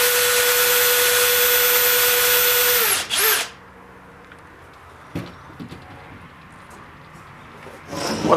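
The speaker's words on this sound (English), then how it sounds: "So I'm going to drill a hole here" A power drill bores a hole in camper wood, a loud steady whine for about three seconds that winds down, followed by quieter handling knocks.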